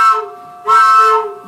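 Locomotive whistle effect on an American Fotoplayer theatre instrument: two steady, harmonic whistle blasts, the first short and the second longer, loud and close with no talk.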